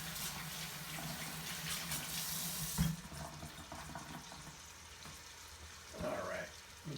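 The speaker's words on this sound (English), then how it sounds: "I'm going to wash my hands off." Running tap water splashing over hands at a kitchen sink during meatball and sauce cooking, a steady moderate wash with a brief louder splash midway and another near the end, with faint background noise.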